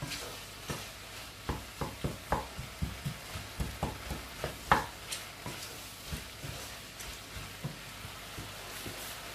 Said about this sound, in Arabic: وكنحرك باش يتجانسوا ليا هاد التوابل